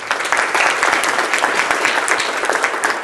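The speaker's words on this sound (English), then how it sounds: "I think we can applaud" Loud, sustained applause from a conference audience at a Climate Farm Demo project overview, many hands clapping in a dense, even roar without a pause.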